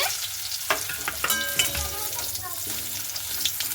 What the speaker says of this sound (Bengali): বাকিগুলোকে আমি ওইভাবেই ভেজে নেব